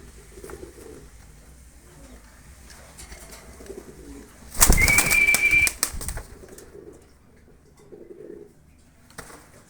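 A pigeon coos in one loud, close burst of about a second amid quieter ambient noise. Faint bird sounds come before and after it at a loft holding jet-black pigeons in Bangladesh.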